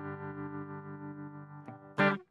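Guitar through a tremolo effect on an HX Effects processor, a held chord whose loudness pulses steadily, followed by a short quiet strum and then one louder bright strum that cuts off abruptly; no talking.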